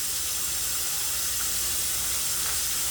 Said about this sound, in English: I'm going to get those in a pot. And we're going to boil these out